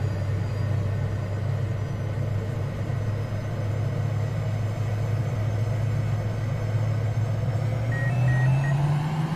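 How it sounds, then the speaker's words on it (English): The jet engine of a Boeing T-45 Goshawk in Microsoft Flight Simulator spools up, a loud steady droning whine that rises in pitch near the end. "There's the spool up there."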